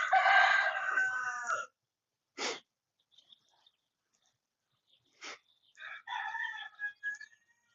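A backyard garden rooster crows loudly and fairly close, a long call at the start followed by a short sharp sound, a pause, then another burst and a second crow, with no talk over it.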